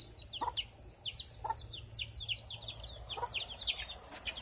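Backyard chickens clucking and squawking, several birds giving rapid overlapping calls with a few sharper cries, moderately close over a low outdoor hum, no talking.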